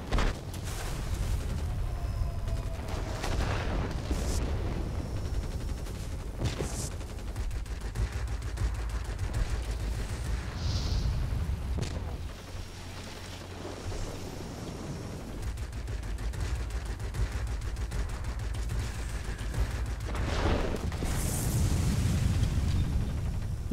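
Bombs and rockets from an IL-10M ground-attack plane exploding in World of Warplanes, a dense run of booming blasts and crackling impacts over steady engine drone, continuous and loud throughout.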